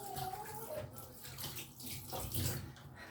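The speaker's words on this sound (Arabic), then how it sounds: "انا بليت ايدي ميه" A tap runs faintly while hands are wetted with water at a kitchen counter before coating fish in flour for frying, giving a soft, steady splashing wash up close.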